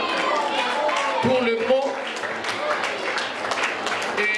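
At a French spelling contest prize ceremony, an audience claps and cheers continuously while someone speaks briefly over the dense applause.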